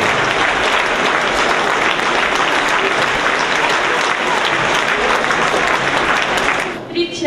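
Dense, loud applause from a festival audience at a variety arts show fills the hall steadily, then tapers off near the end.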